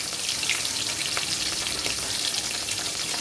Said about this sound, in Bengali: কড়াই দিয়ে মাছগুলোকে একটু এপিট ওপিট করে কড়া করে ভেজে নেব